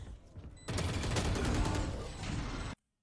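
Gunfire in the video game Valorant: a sustained burst of rapid shots for about two seconds that cuts off abruptly into silence.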